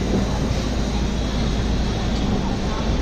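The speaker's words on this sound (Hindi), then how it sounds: "फाइनली अपनी ट्रेन नई दिल्ली रेलवे स्टेशन पहुंच चुकी है।" Inside the Shri Shakti Express 22462 as it pulls into New Delhi railway station, a loud continuous low rumble of the moving train carriage with broadband rattle, steady throughout.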